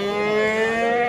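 A young bull at a livestock market in Kırıkkale lets out a loud, sustained, tonal moo close by, with no talking over it.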